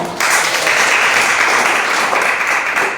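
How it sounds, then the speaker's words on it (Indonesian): Classroom applause during a computer networking security lesson: a steady burst of clapping from a class of students, continuous and fairly loud for a few seconds before fading slightly. "Pintar sekali ya kelas ini. Tepuk tangan."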